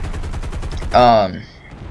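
Aircraft gunners in War Thunder fire machine guns in a quick rattling series of close shots, followed by a brief louder tonal burst and a fade.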